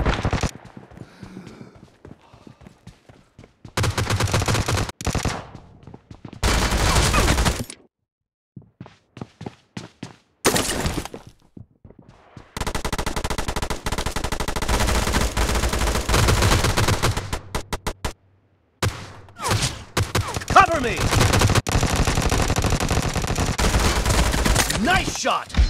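Gunfire in the Battlegrounds Mobile India game comes in long bursts of rapid automatic shots, loud and close, broken by brief silent gaps and occasional single shots.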